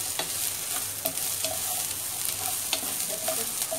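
Crab curry masala roasts in ghee with a close, steady sizzle and frying crackle, broken by occasional scrapes as it is stirred in the pan; nobody speaks.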